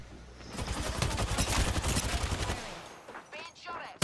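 Gunfire in the video game Apex Legends: a loud, rapid burst of automatic shots for about two seconds, then scattered fainter shots and game effects, with a brief voice.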